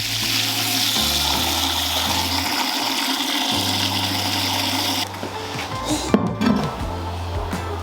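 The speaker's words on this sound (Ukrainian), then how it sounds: "знову заливаємо воду" Water pours and gushes steadily into a cauldron for several seconds, with a low mechanical drone underneath, then tapers into splashes and clinks.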